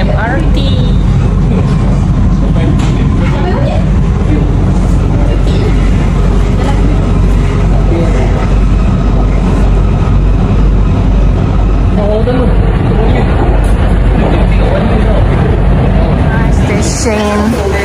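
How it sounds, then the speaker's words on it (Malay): Constant loud rumble and roar inside a moving MRT train heading toward Bukit Bintang station in Kuala Lumpur, a dense unbroken rush of wheel and motor noise with faint passenger chatter beneath. "Dalam MRT."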